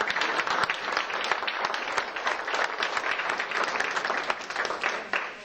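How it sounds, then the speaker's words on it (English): Audience applause welcoming a lecturer to the stage for an evening talk, a steady dense patter of many hands clapping together, sustained and even for several seconds with no pause. "Let's give him just a little round of applause."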